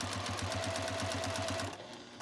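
Sewing machine stitching binding onto a quilt, a fast steady mechanical chatter of needle strokes close by that runs about one and a half seconds and then stops, with no talk.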